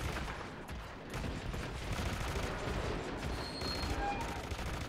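Rapid gunfire-like blasts from a cannon in the video game Hitman Absolution, a dense continuous barrage of loud booming shots filling the whole stretch with no speech over it.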